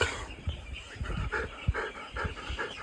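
A puppy in a farm setting pants quietly in short, rhythmic breaths, close but faint, with no one talking.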